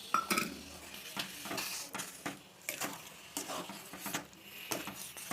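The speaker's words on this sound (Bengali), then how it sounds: "এই গুড়টা ভালো করে মিশিয়ে নিতে হবে" A spoon scrapes and clinks in a pot as jaggery is mixed into a thick amla mixture, with irregular soft knocks and scrapes repeating throughout at a fairly quiet level.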